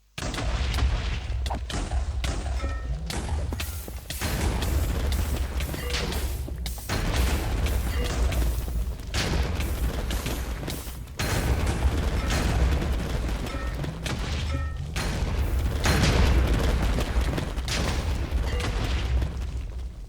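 Rapid bursts of sharp, booming Minecraft end crystal explosions repeat nonstop in dense clusters, loud and close, with brief gaps between flurries.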